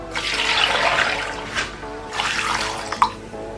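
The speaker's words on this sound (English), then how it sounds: "And I'll add 2 cups of water." Two cups of water pour steadily into a blender for a few seconds, a broad rushing splash that pauses briefly and then resumes, with a small clink near the end.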